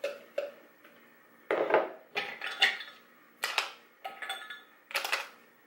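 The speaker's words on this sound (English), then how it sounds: "I'm going to use the tall cup and put all my ingredients in." Fruit and ice dropped into a tall plastic Magic Bullet blender cup for a smoothie, a series of separate clunks and rattles spaced apart, close and fairly quiet, with no voices.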